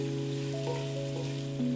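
Prawns frying in hot oil in a pan for a jackfruit curry, a steady close sizzle with soft crackles and a few brief stirring shifts, no talk.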